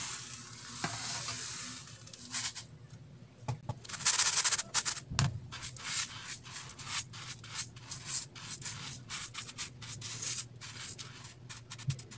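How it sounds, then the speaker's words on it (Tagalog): Sand poured into a deep cooking pot for a no-bake bibingka: gritty, hissing trickles and scraping grains in uneven bursts, fairly soft and close, with small knocks against the pot. "So, lalagyan lang natin ito ng konting buhangin."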